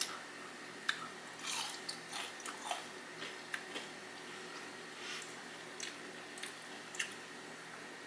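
Flamin hot fried pickles are bitten and chewed up close, giving sharp crunchy bites followed by wet, squishy chewing in an irregular rhythm over a quiet background, with no talking.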